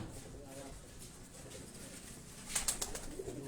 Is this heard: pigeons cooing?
yes